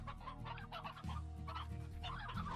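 Chickens cluck from within the farming video game Slime Rancher, a soft run of clucks over a low droning game soundtrack, faint and continuous, with no talk.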